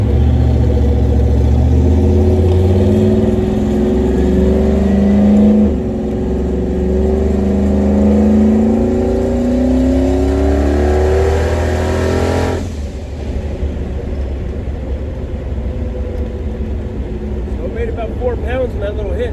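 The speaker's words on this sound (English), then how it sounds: "So these guys always want me to do burnouts." A car fitted with a turbo and 44mm wastegates revs hard during a burnout, its engine rising and sweeping loudly and up close before cutting back to a rough idle, with voices heard over it.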